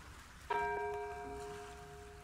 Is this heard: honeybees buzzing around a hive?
no